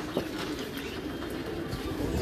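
A pigeon coos softly and repeatedly nearby, a low rhythmic murmur that runs through the moment with no talking over it.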